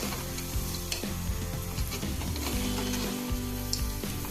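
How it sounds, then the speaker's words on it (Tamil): Crab pieces sautéed in masala sizzle and crackle steadily in a pan, with repeated knocks and scrapes of a spoon stirring the thick, heavy mixture close by, and nobody speaking. "பாருங்கள், கொஞ்சம் கஷ்டம்தான் வதக்கிறதுக்கு."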